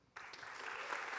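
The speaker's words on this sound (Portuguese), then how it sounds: "E continua aplaudindo" A theatre audience at a Curitiba literary festival event at Teatro do Paiol breaks into dense, sustained applause that starts suddenly and swells steadily, with no voices over it.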